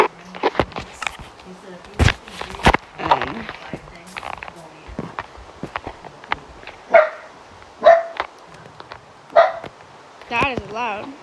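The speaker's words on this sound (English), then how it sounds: "Yes, my dog is loud." Loud, close dog barks come in repeated bursts with short yips between them. Other voice and game-like sounds are mixed in throughout.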